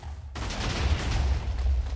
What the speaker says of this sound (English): So that's the new explosions I've got in the package.